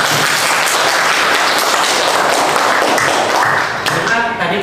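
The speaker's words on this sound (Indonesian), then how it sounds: "Kita berikan tepuk tangan untuk kita semuanya." Applause fills a classroom lesson, a dense steady patter of many hands clapping close by for about four seconds before thinning out at the end, with faint voices mixed in.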